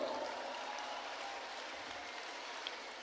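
Faint, distant applause from a youth Easter gathering in a parish setting, a steady hiss of many hands clapping at low level throughout without distinct individual claps.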